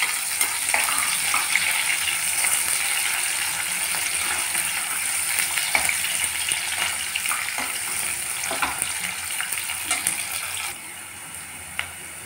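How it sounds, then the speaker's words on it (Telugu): Onions and green chillies frying in hot oil in a pan for a mutton curry, a steady close sizzle with occasional stirring scrapes and clicks, continuous for about eleven seconds before dropping slightly quieter, no talk. "ఉల్లిపాయలు పచ్చిమిర్చి వేస్తున్నాను. కాస్త ఎర్రగా వేగాలండి."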